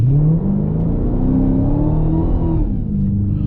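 A Dodge Hellcat launches at full throttle with a loud, close engine roar that holds steady and climbs in pitch, then dips briefly near the end as it shifts. No voices.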